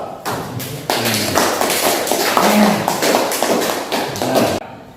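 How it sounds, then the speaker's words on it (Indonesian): Applause breaks out in a classroom, heard as a dense, close burst of clapping and tapping that starts suddenly and ends abruptly about four seconds later. "Kasih aplaus"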